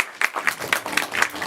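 An audience claps at the start of a live show, a brief burst of dense, close applause with rhythmic rapid claps, loud and without talk.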